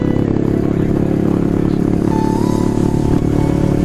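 A KTM Duke 390 motorcycle rides over a bumpy road, its engine droning steadily and loudly the whole time with rattling clatter and scraping from the rough surface.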